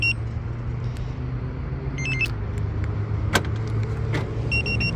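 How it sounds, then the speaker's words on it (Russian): A Mitsubishi Lancer 9 unlocks via key fob, giving a few short electronic chirps and a brief mechanical lock clunk heard close against a steady low background hum. "Открываю машину."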